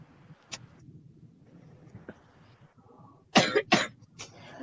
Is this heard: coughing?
yes